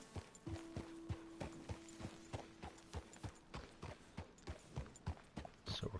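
Horse hooves clip-clop at a steady walking pace in the Red Dead Redemption 2 game on PS4, a regular train of distinct soft thuds at moderate distance, with a faint held tone early on.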